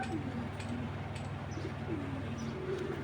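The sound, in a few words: inbred Netherlands female racing pigeon cooing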